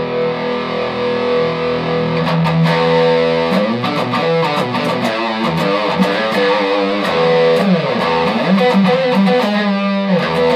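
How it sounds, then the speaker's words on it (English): Electric guitar played through a TC Electronic Dark Matter distortion pedal with gain set all the way down, a loud, saturated run of picked chords and notes with no talk. "Lots and lots of distortion."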